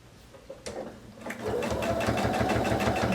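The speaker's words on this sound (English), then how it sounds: "So as I sew, I'm going to get here at the pin, stop, and backstitch to secure my stitches." A sewing machine stitches through fabric up to a pin and backstitches. Its motor hum and rapid needle chatter start softly, then settle into a steady, close, fairly loud run.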